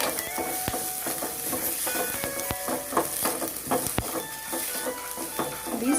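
Finely chopped onion fries in hot ghee in a pan. A steady, close crackling sizzle runs throughout, broken by sharp clicks and scrapes as the pieces are stirred.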